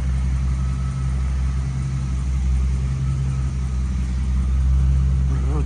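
Mercedes-Benz SL600 with a V12 engine idles steadily at close range, a deep continuous low rumble with an even hum and no revving, with no voices over it.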